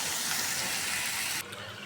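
Bitter gourd with potato frying in a pan, a plain white fry without turmeric, gives off a loud steady sizzling hiss that drops abruptly to a quieter sizzle near the end.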